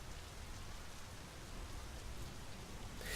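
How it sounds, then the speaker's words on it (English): Steady rain falling in the driving game My Summer Car, a soft continuous hiss of drops with low rumbling underneath, faint and even throughout. "Oh, good, now it's raining."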